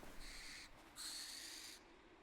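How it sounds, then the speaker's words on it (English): Barn owl call in a wildlife photography video game: a harsh, hissing screech in two drawn-out bursts, the second longer, fairly faint over quiet background, no talking. "the barn owl made quite a sound"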